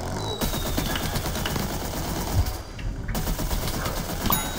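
Rapid, steady bursts of plant gunfire from Plants vs Zombies 2 3D, in a pirate-themed level, with dense overlapping shots rattling continuously at close range and a brief gap near the middle.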